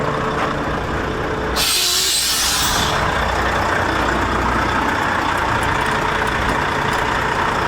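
A service truck arrives near a broken-down truck in the Riyadh South heat, with a loud hiss of air brake release over a constant heavy engine rumble and idle that holds steady to the end.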